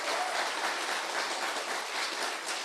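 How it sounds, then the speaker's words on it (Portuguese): A church congregation applauding loudly, a dense, steady wash of clapping that fills the whole stretch without pause. "Rapaz, vamos aplaudir bem forte."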